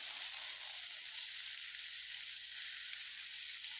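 Vegetables sizzle steadily in a hot pan for stir-fried Indomie instant noodles, a continuous soft crackling hiss that stays even and close throughout, with no voices.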